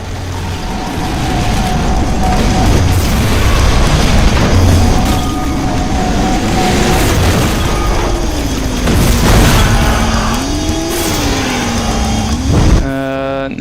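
Vehicle combat action from a Twisted Metal 5 fan video game: a loud, dense engine drone with remote bomb explosions bursting and booming over it, mechanical clatter throughout, and a rapid ratcheting burst near the end.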